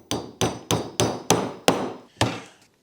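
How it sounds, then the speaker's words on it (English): A hammer drives a nail through wood in seven sharp, close blows with steady rhythm and a short pause before the last strike. It is part of making a wooden bowl with a hand router, and no one speaks. "bang our nail through"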